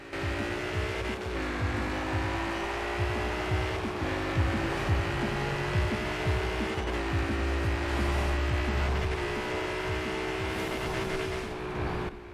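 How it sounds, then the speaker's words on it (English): Stock 2018 Ford Mustang RTR Spec 5 in Forza Horizon 4, its engine droning steadily and loud for the whole stretch, with brief rev dips and shifts near one, four and seven seconds and some tire squeal mixed in. "let's go ahead and have a listen to this thing stock"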